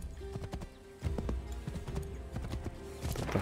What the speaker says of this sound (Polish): Już wolę jechać konno niż z buta.